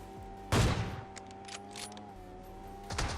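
Gunfire in the video game PUBG, two loud close bursts of shots, one early and one at the end, over a steady droning in-game hum with fainter scattered sounds between.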